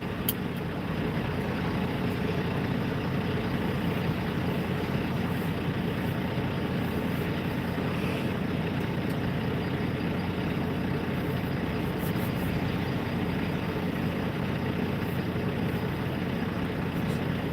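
Steady low rumble of an idling truck engine in a video game, continuous and even with no talk over it.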